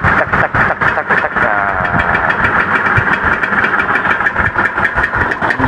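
A restored Yamaha RXZ two-stroke motorcycle idles after a kick start, a loud, close, rapid, even putter with a steady rhythm, while someone talks over it.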